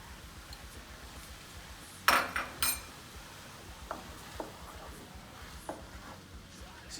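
A spatula stirs a stir fry with sauce and cooked egg in a slightly too small pan, giving a few sharp utensil clinks and scrapes around the middle, then fainter scattered taps over a quiet kitchen background.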